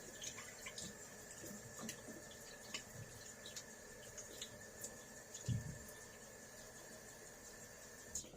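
Cold water running from a bathroom tap during a wet shave, a faint steady trickle with scattered drips and small clatters, no speech.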